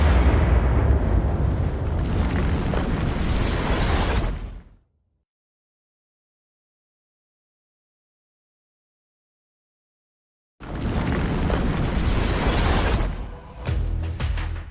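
A volcanic eruption roars and booms as a loud, dense blast of rumbling noise for several seconds, then cuts to silence before a second heavy burst of rumbling explosion returns.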